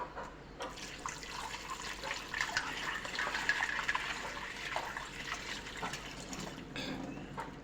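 Egg shells are rinsed under running water in a sink, a continuous close splashing and flowing sound with sloshing as the shells are swirled, lasting throughout with no speech.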